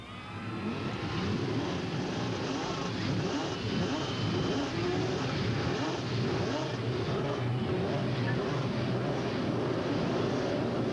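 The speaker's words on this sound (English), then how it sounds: "Gentlemen, start your engines." Race car engines at the Laguna Seca course, a 1987 CART event, rumble and roar steadily throughout, a dense mass of many motors idling and revving together at a constant loud level with no voices.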